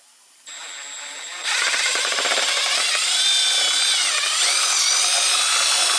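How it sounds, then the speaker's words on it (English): A power drill whirs steadily, starting faintly then jumping louder after a second and holding a continuous high grinding whine as it bores out a hole in a soda blast gun hopper, with no voices. "I'm just going to drill out its hole."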